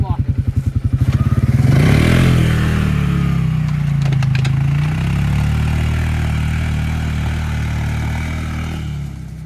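A 2024 Can-Am Outlander Pro HD7 ATV engine runs in four-wheel drive with a speed limiter set, starting with a rapid idle pulse, then revving up into a steady loud drone that holds near and close, with voices talking over it.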